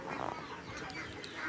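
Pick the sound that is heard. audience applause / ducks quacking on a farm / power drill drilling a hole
ducks quacking on a farm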